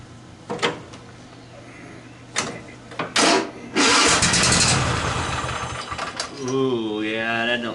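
A Cub Cadet engine starts after its air filter is refitted: a few cranking attempts and clunks come first, then the engine catches and runs roughly.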